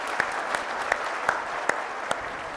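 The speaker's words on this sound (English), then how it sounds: "give him a big round of applause" Audience applause at a management and HR summit panel session in Lahore, a steady wash of clapping with a few sharper individual claps standing out, moderately loud and continuous throughout.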